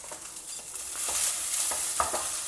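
Onions sauté in a pan with salt for a potato side dish, making a gentle sizzle under soft, irregular stirring scrapes that grows slightly fuller midway, with no one speaking.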